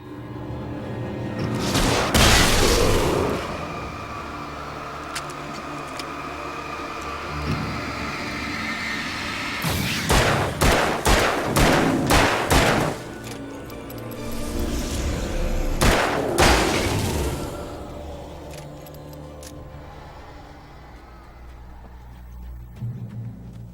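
Flare gun shots in the video game Alan Wake, three loud firing bursts, each a sharp crack followed by a long hissing whoosh, the middle one a rapid rattling cluster, under a low ambient game rumble.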